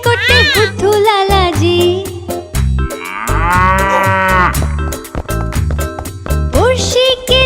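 A cartoon cow moos loudly several times in long, wavering calls, set against a rhythmic musical backing.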